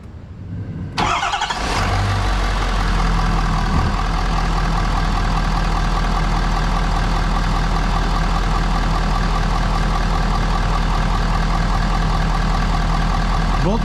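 A diesel truck engine cranks and catches after about a second, then settles into a loud, steady, rumbling idle that runs on without change.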